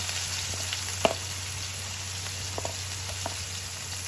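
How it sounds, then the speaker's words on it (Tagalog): Garlic and onion sizzling steadily in a hot pan for fish escabeche, a soft constant frying hiss with a few faint clicks and taps of stirring. "gigisa na natin ang ating mga ingredients"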